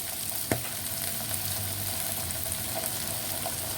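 A spoon stirs soup in a pot with a sharp clink at the start, then a soft, steady simmering hiss with faint scraping throughout and no voices.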